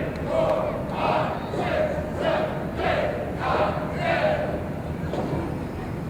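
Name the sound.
wrestling match crowd cheering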